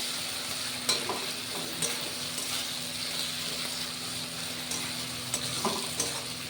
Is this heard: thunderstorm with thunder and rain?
no